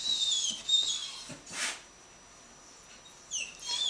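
A glum-looking dog breathing and softly whining close by, thin high whimpers and wheezy breaths with a brief louder exhale, in a quiet room without talk.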